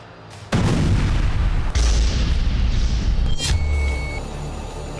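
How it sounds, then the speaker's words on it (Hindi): A heavy explosion from an Israeli air force strike in Gaza booms abruptly, then a second blast follows, and a third sharp crack trails into a fading rumble. "चौथा विस्फोट"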